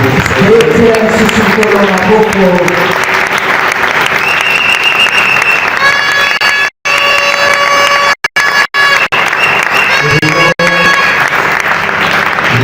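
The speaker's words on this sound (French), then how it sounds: "Acclame encore plus." A church congregation at a Sunday worship service claps loudly and continuously, a dense sustained round of applause with a few brief breaks, while voices carry through it.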